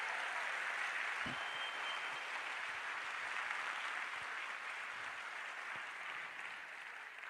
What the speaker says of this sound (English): those were Zulu dancers. They deserve a round of applause, I think.